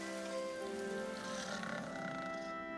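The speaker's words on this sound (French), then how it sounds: "Je dois les mettre à l'abri de la pluie." Steady rain falling in an animated children's train show, a continuous hiss that lasts throughout, layered with sustained musical tones.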